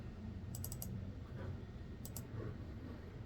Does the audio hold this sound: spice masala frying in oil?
no